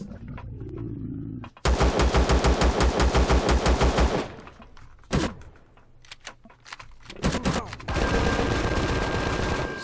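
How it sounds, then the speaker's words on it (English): Rapid automatic gunfire from enemies in the space survival game Empyrion during a raid, loud sustained bursts with short single shots between them and no talking. "They're shooting at me"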